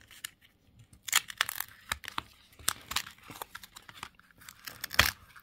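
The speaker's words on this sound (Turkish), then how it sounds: "Kartı açıyoruz." A101 Hadi card packaging being opened by hand, with bursts of tearing and crinkling paper or plastic in several sharp close-up rips, no talking.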